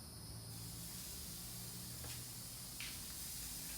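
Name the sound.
burger patties sizzling on a hot gas grill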